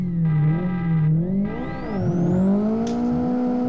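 A 1989 Parati with a 349 HP engine and 1 kg of boost in the Live for Speed racing game, its engine revving loud and tonal, dipping as it nearly stalls, then climbing steadily again, with no talk.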